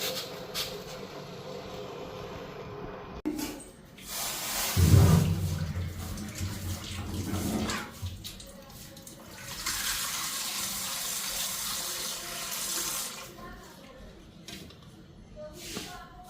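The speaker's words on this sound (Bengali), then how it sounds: "জল ফুটে গেছে, ডিমটা দেওয়া আগে আস্তে করে।" Water rolling at a boil in a pot ready for eggs, a steady broad hiss and bubbling that swells loudest partway through and continues close by without speech.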